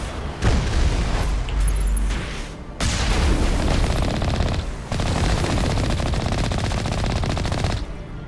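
Dense automatic gunfire in the Mass Effect video game, loud and sustained, broken by brief pauses between long bursts, with heavy booming impacts and no talking.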